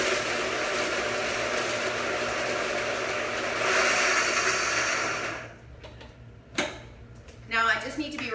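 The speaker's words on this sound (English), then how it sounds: "I'm gonna pulse these down first into a bit of a powder before I get started." Macadamia nuts pulsed to powder in a blender, a loud, steady close whirring grind that runs about five seconds, then cuts off, followed by a few short bursts and clatters.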